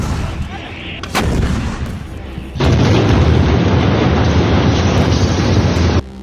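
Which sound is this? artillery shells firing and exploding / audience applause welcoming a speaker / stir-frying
artillery shells firing and exploding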